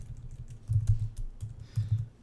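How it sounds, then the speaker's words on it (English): Comments being typed on a computer keyboard, a quiet close run of soft key clicks in short uneven bursts, no talking. "let me type in my comments"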